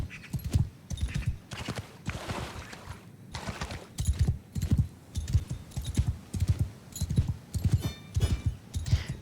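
Horse hooves pound in a fast, rhythmic galloping beat in Mount & Blade II: Bannerlord, close and prominent, with bursts of in-game noise between the strides.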